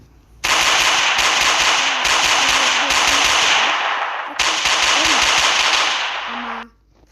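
Rapid automatic gunfire from a weapon in the Roblox video game, loud and close, with long sustained bursts broken by brief pauses before cutting off near the end.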